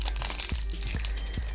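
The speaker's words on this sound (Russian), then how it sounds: "Надрываем пакетик" Paper packet holding a roll of camera film for a Kiev 6S being torn open by hand, a close crinkly rustle with a few sharp crunchy snaps.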